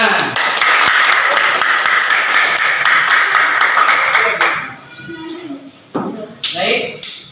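A classroom full of students clapping together, a dense burst of applause lasting several seconds before fading into a few scattered claps and taps, with voices around it.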